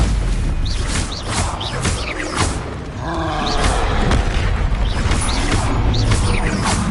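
A fiery Incendio spell cast in Hogwarts Legacy, a loud whooshing magical blast that roars steadily with rumbling low end, sitting among other game spell effects and background music.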